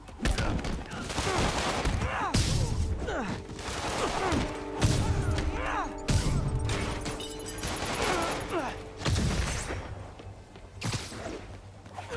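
Enemy gunfire in Spider-Man on PS4, rapid volleys of shots cracking in repeated bursts over combat whooshes and impacts, with game voices now and then in the mix.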